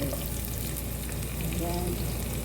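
Ginger sizzles and crackles in a hot pan for chicken soup, a dense, steady frying hiss heard up close with faint stirring and no one speaking.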